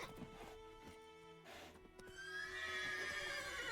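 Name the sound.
horse Roach whinnying in the video game Witcher 3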